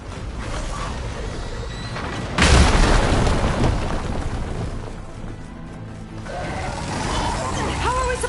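A machine in Horizon Forbidden West fires, setting off a loud booming blast about two seconds in, followed by rumbling explosions and game noise, with speech over it.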